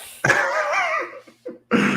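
A rough, raspy cough bursts out at close range, followed by a short gasp and another hacking cough.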